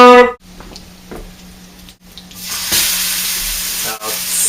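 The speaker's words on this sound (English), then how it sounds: "we don't need this much oil when you're pan frying fish" Oil sizzles in a pan with a steady hiss that swells louder partway through, broken by brief quiet gaps and light clatter of stirring.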